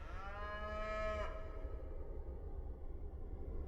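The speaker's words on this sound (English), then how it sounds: "In the wide open spaces of western North America, free-range cattle are thriving." Free-range cattle in the open spaces of western North America let out a loud, drawn-out moo in the opening second, then the call fades into a low, steady background rumble with no further calls.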